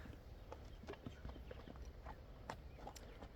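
A horse walks, hooves clip-clopping in a steady, even rhythm, faint and somewhat distant against a constant low background rumble.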